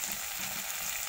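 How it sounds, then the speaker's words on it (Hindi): Chopped onion hitting frying rohu fish in a pan gives a steady, close, dense sizzle throughout with faint stirring underneath and no voices. "अब इसमें डाल रही हूँ कटी हुई प्याज"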